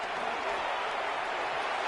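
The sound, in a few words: crowd applause in video game Madden 26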